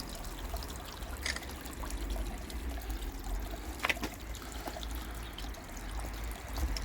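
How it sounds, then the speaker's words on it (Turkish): Water runs through a kitchen drain pipe with a continuous faint trickle and low rushing flow, plus occasional small clicks and drips, steady throughout with no speech. "Şu anda mutfak gideri akıyor."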